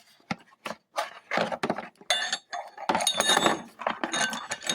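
Metal parts of a coil spring compressor and its small fork clinking and clattering as they are handled, in sharp irregular knocks close by, no talking.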